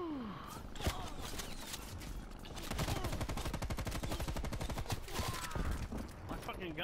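Automatic gunfire rattles in the video game Call of Duty: Black Ops Cold War, a rapid steady stream of shots lasting several seconds amid other in-game combat sounds, fairly quiet overall.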